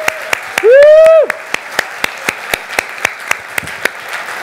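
Gala audience clapping in a slow, regular beat of single sharp claps, about two per second, with a loud whoop or voice cutting in near the start.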